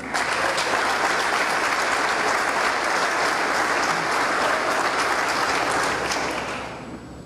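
Applause from the audience at a solemn session for a swearing-in ceremony, sustained and even across the room, then thinning out near the end.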